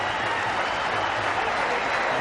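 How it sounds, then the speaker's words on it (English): Cricket crowd applauding at a 1999 one-day international between India and Pakistan in Sharjah, a steady wash of clapping that holds evenly throughout. "There you see the Pakistani camp applauding his effort."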